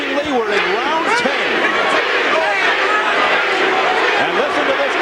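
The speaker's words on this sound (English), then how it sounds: "And listen to this crowd turning. That's not Holyfield they're chanting, that's Bean." A boxing arena crowd at the Evander Holyfield vs Vaughn Bean fight in round 10 chants Bean's name, a steady, loud roar throughout with a commentator talking over it.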